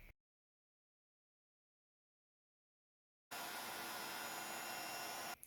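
A heat embossing tool switches on after a stretch of near silence and blows hot air in a steady, close, broadband whoosh that runs for about two seconds.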